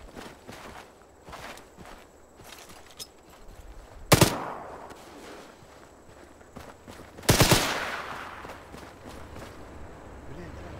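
Video game combat with two sudden loud gunfire blasts roughly three seconds apart, rising above steady footstep-like shuffling while players talk.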